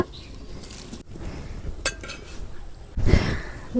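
A lid is set down over a chicken biryani pot on a clay stove, giving a sharp clank followed by a heavier metallic knock and rattle, close and fairly loud against quiet background noise.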